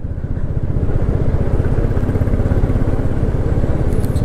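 A motorcycle on a long ride from Kolkata towards Siliguri rumbles close and loud over a badly broken, dusty road, its engine giving a continuous throbbing pulse with constant rattling from the rough surface.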